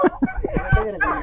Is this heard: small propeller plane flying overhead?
no